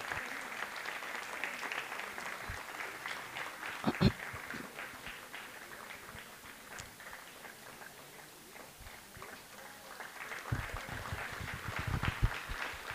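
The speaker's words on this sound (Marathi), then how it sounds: "जोरदार टाळ्या होऊ देत." Audience clapping at a school annual function award ceremony, a steady sustained round of applause filling the hall at moderate volume, with a few louder bursts near the end.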